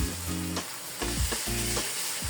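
Pieces of chicken fry in oil in a pan with a steady broadband sizzle, broken by a few short scraping stirs of a spoon. The sound is close and fairly loud, with no voices.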